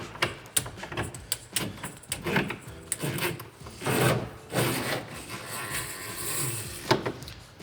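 A flexible tub sprayer hose being fed down into its sprayer support during installation of a Delta single-handle Roman tub trim, giving irregular close rubbing, scraping and sliding sounds with a few sharp knocks, no talk.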